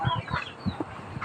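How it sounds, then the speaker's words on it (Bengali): Soft clucks and small chirps from a chick kept with other chickens, coming in short, irregular bursts at close range and fairly quiet, with no talking. "এই যে আমার একটা মুরগির বাচ্চা"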